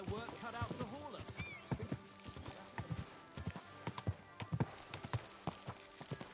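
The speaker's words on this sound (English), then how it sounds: "The horses have their work cut out to haul us." Horses haul a cart in the Kingdom Come 2 video game, hooves clip-clopping in a steady close rhythm while a horse whinnies and a voice talks over the hoofbeats.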